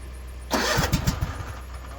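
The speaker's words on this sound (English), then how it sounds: "Squeaky belt." A truck engine cranks and catches halfway through, starting with a few quick chugs and a high squeal from a squeaky belt, then settling into a steady idle, close and fairly loud.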